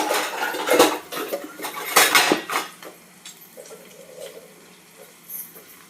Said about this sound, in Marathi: आता हे मी ढवळते